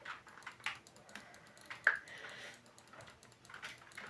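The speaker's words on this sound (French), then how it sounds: "mon clavier, il fait du bruit" Rapid clicky keystrokes on a noisy action-style computer keyboard during a video game boss fight, irregular taps and short bursts at close range with one sharper click, no voices.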